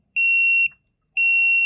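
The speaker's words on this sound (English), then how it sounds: "when the switch is pressed, it will start to beep" Buzzer on a safety alert device sounding two sustained electronic beeps, each about half a second long with a short gap between them, loud and clear with no talking.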